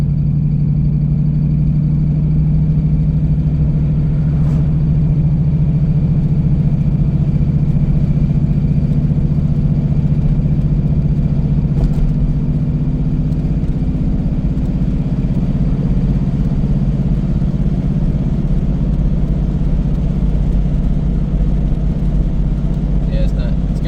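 A 1996 Impala SS V8 runs steadily under light throttle in a smooth, continuous low drone with a slight rise in pitch as it shifts, sounding somewhat gearless with transmission fluid likely low, close and loud throughout.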